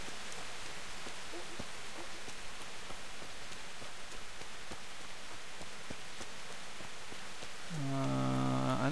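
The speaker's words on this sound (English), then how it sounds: "Oh my god, the rain and the foliage." Steady rain falls through foliage in Kingdom Come: Deliverance, a dense, even hiss of drops on leaves with scattered sharper drips throughout, joined near the end by a brief tonal swell.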